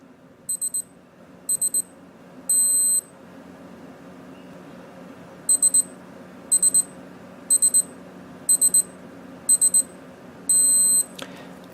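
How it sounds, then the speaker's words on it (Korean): A Casio G-Shock GBD-800 countdown timer alarm sounds in repeated short bursts of high electronic beeps, some in quick triplets and some as longer tones, close and clear over a faint steady background hiss. "다른 모델들은 카운트다운 시간이 경과하면 10초간 알림음을 해주는데"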